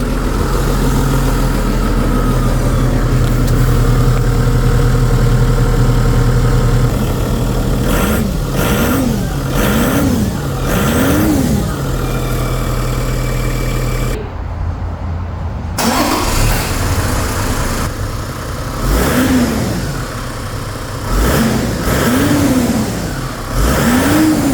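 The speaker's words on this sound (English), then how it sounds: "here's what the exhaust sounds like before." A Toyota Land Cruiser 100 series diesel with stock exhaust idles steadily, then is revved in repeated rising-and-falling bursts, loud and close, with a brief pause before more blips.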